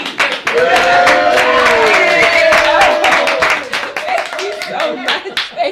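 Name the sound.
audience clapping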